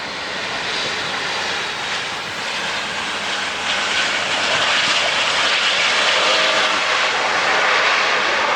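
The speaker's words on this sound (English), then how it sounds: "These should be loud because those are big engines." The big jet engines of a landing airliner produce a loud, steady, broadband roar that builds slightly and holds close by, without any talk.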